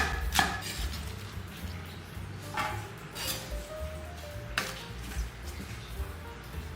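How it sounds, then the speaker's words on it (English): A knife slices Napa cabbage into shreds on a cutting board with a few sparse, moderate chops spread over a quiet background hum, and no voices. "Prepare an appropriate amount of Napa cabbage and slice it into shreds"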